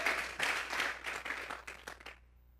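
Applause from a church congregation offering praise, a dense wash of many hands clapping together that holds steady, then thins and stops near the end.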